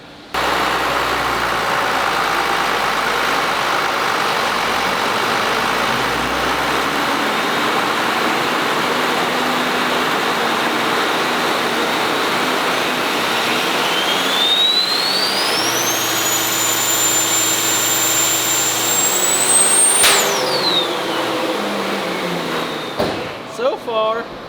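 A first-generation truck engine rated at 269 horsepower runs loud and steady, with a rising whistling whine that climbs in pitch late on as it revs, then drops away near the end.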